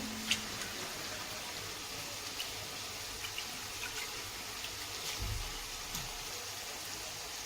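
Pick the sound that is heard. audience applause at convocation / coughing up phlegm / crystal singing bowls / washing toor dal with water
washing toor dal with water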